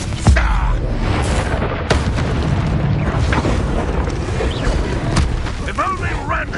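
An Incendio fire spell in Hogwarts Legacy erupts as a loud, booming blast, its roar continuing through the clip amid other dense game effects.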